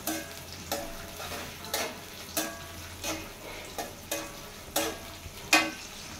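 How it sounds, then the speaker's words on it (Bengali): Onions and chopped garlic fry in hot oil for a Bengali dal dish, a constant close sizzle broken by regular stirring scrapes about every second, with no voices. "পেঁয়াজ দিয়ে দিব, পেঁয়াজ পরে যে রসুন কুচি করে রেখেছিলাম এগুলো দিয়ে দিব"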